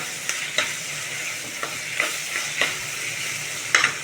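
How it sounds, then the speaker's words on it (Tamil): Tomatoes and onions sizzle steadily in a hot pan while a spoon stirs them, giving soft scraping strokes roughly every half second over a constant close frying hiss, with no talking. "தக்காளி ஓரளவுக்கு ஃப்ரை ஆயிடுச்சு"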